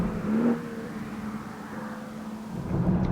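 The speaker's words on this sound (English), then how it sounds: "You put your right foot in this car in any gear at any time, it takes off like it's out of a different class of automobile" A BMW 335i F30 sedan's engine hums steadily under acceleration, a low droning tone rising at the start and swelling again near the end, heard from inside the car without talk.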